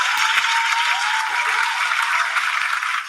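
A canned applause sound effect played from a phone speaker, a thin, bright, steady burst of crowd clapping lasting a few seconds.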